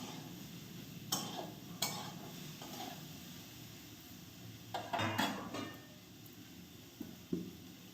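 Fish frying in a pan while being stirred, a faint continuous sizzle close by, broken by several scraping clinks of a spatula against the pan at irregular intervals.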